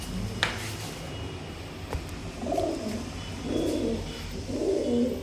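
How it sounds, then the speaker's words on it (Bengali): A male Madras (Chennai) high-flying pigeon coos in several soft, throaty phrases at close range, repeating in short bursts over a low background hum. "এটা নর পায়রা আছে একটা।"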